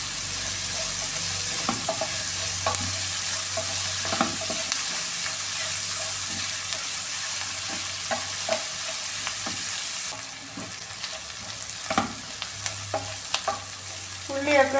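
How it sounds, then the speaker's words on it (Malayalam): Shallots frying in oil in a pan for chicken curry, a continuous sizzle with frequent scraping stirs of a spatula, fairly close and loud, with no talking. "ഉള്ളിയൊക്കെ നന്നായിട്ടൊന്ന് മൂത്ത് വന്നിട്ടുണ്ട്."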